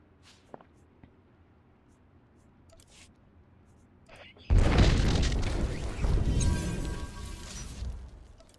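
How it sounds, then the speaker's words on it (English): Fireworks explode suddenly after a quiet stretch of faint shuffling and clicks, bursting into a loud, sustained rumbling roar that slowly fades over several seconds. "Oh my god, I got more fireworks."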